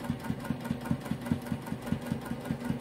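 A sewing machine runs a quarter-inch seam along a pillowcase at a 3.0 stitch length, giving a quick, even, rhythmic thumping that holds steady and fairly quiet throughout.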